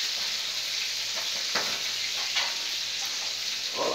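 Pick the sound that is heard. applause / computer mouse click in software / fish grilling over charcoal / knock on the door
fish grilling over charcoal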